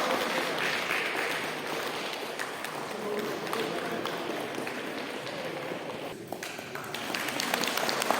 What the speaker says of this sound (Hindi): उसके लिए बहुत जोरदार तालियां।